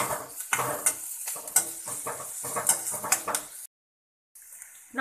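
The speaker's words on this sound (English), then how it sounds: "have to fry this until onion gets little brown in color. Now I am adding ginger garlic paste." Onion frying with ginger garlic paste in a pan, stirred with repeated clattering utensil scrapes over a sizzle, close by; a brief silent gap comes before the frying resumes.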